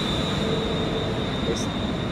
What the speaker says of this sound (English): There's a train coming in now.